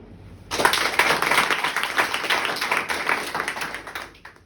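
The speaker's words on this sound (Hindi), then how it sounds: "अभी सबने ताली बजाई, कोई कहीं मार रहा है, कोई कहीं मार रहा है, पता नहीं लग रहा।" An audience in a lecture hall at a motivational session claps unevenly and out of rhythm, starting abruptly and continuing as a loud scattered patter before thinning out at the end.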